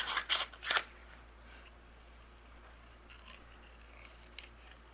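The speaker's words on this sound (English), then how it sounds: "take some scissors, and we are going to fussy cut each one of our elements out" Scissors fussy-cutting stamped paper elements give a few sharp, close snips in quick succession at the start, followed by quiet room tone with faint rustles.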